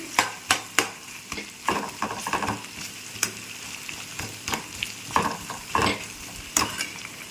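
Chicken curry masala being fried in a pan, a continuous sizzle punctuated by sharp scraping stirs and clinks of a spoon against the metal, close and moderately loud.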